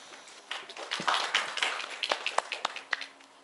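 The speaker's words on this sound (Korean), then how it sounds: "큰 박수로 맞이해 주시면 고맙겠습니다." A small audience at an academic talk on energy harvesting gives scattered, uneven claps to welcome a presenter, a handful of sharp hand claps spread over a few seconds in a quiet room.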